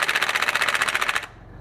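Power tool, likely an impact wrench on speed 1 in loosening mode, hammering on a motorcycle rear brake bolt: a rapid loud rattling burst of even impacts lasting just over a second, then stopping abruptly into quiet.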